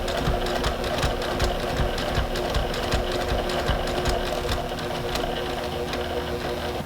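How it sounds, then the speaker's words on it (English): A sewing machine runs steadily, its rapid needle stitching a quilt close to the edge, producing a continuous mechanical whir and clatter with no talk. "then you can stitch within 1/4 inch of that edge."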